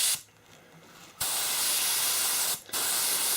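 An airbrush sprays watery paint onto a silicone baby doll in two bursts of steady, loud hiss, the first lasting over a second, separated by a brief quiet gap.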